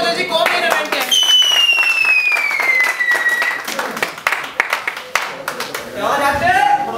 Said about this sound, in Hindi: तालियां बजा जी